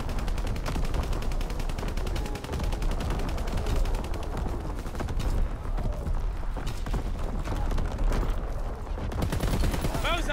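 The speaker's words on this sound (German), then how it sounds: "Flaksalven abgefeuert" Dense, relentless bursts of anti-aircraft flak gunfire in Call of Duty WWII rattle on without pause, loud and close, with faint voices mixed in.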